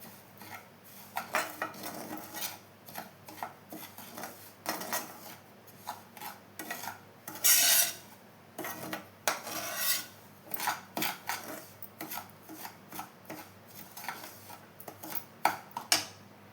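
Semolina roasting in ghee over a low flame for rava kesari, rough rasping scrapes of a spoon against the pan in irregular bursts with brief pauses, close and moderately loud, no voices.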